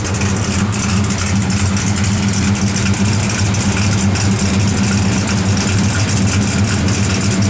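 The engine of a 1966 Chevrolet El Camino idles steadily and loudly up close, a deep, even rumble with a regular low throb throughout and no voices.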